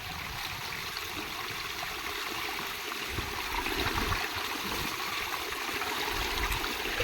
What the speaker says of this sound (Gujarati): હવે સીધું પ્રેશરથી પાણી જાય ગોળામાં ભરાઈ જાય